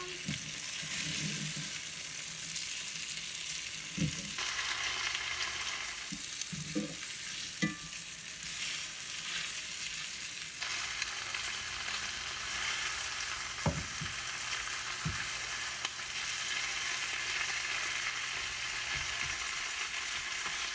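Chicken pieces fry and sizzle in a pan after being flipped, a steady close crackle with occasional clinks and scrapes of a utensil, no talking.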